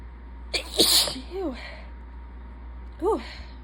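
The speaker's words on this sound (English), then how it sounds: "Hold on, I'm about to sneeze." A single loud, close sneeze bursts out from a person, followed by a brief voiced exhale and a short later sigh, against a quiet indoor room hum.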